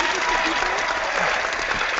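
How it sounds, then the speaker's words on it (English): Applause during a casual online group hangout welcoming a returning member, a steady muffled clapping wash with faint voices murmuring underneath. "for that I give you an applause"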